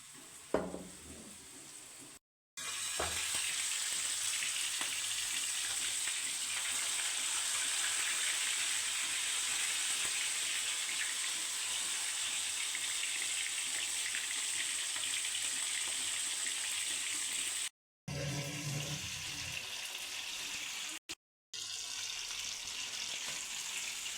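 Chicken curry ingredients fry in a hot pan, with green chillies, garlic and onion in the oil. A loud, continuous sizzle crackles steadily, broken by brief silent cuts.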